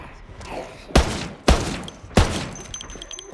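Three sharp, loud gunshots from a drum-magazine gun in the zombie survival game Project Zomboid ring out at uneven intervals, each a hard crack with a short tail, over faint background noise.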